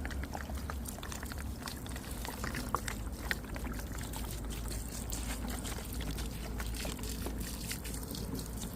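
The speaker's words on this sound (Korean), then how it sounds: "여기서 일단 물을 부어 보겠습니다" Water pours and splashes steadily onto damp red clay ground outdoors, a continuous broadband wash with a low rumble underneath and a few sharper splatters.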